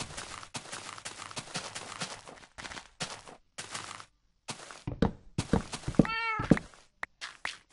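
Cat meowing in the video game Minecraft, with a short rising meow near the end amid a busy run of clicks, thumps and footstep-like game sounds, in bursts separated by brief silences.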